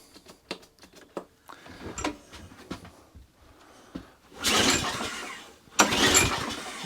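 A Briggs and Stratton small engine with a priming problem and a carburetor needing cleaning is cranked repeatedly without catching, short ticking pulls followed by two louder sustained bursts of cranking noise, close and fairly strong.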